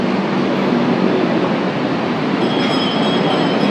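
A BTS Skytrain at Sala Daeng station in Bangkok produces a loud, steady rolling rumble with a faint high wheel whine toward the end, close by and with no talk.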